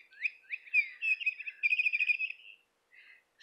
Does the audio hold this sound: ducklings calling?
no